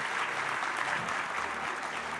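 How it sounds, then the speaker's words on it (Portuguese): Audience applause at the Expo Longevidade 2022 conference, a steady, dense wash of clapping from a crowd that holds evenly for a couple of seconds with no talk over it. "Uma salva de palmas."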